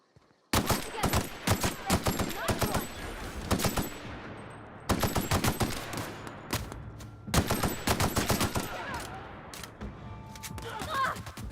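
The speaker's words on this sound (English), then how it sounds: "Down to 15 rounds in this assault rifle." Assault rifle fire in a video game comes in loud, close bursts of rapid shots, broken by short pauses, with repeated volleys continuing across the whole stretch.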